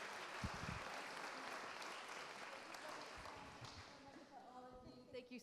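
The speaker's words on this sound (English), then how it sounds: "If I could ask everyone to thank with a round of applause the Apocalypse panel" An audience at a polar symposium gives a round of applause for a panel, steady moderate clapping that carries throughout, with a voice and faint tones emerging near the end.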